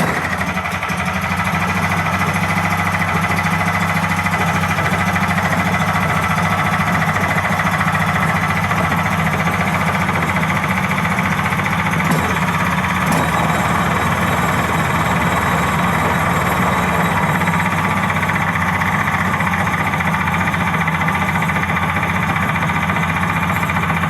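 A cold Powerhorse 420cc OHV horizontal engine runs on full choke, loose and bouncing on its base, with a loud, steady, rough-edged drone that holds throughout with no pauses.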